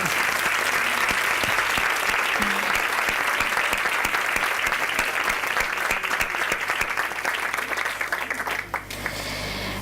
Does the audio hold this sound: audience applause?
yes